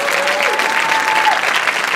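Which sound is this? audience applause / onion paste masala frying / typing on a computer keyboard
audience applause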